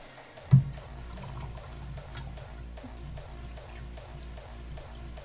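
Coolant drains from a PC water-cooling loop in a Thermaltake The Tower 900 case, a soft, steady trickle and gurgle of liquid with a sharp knock near the start and faint handling clicks.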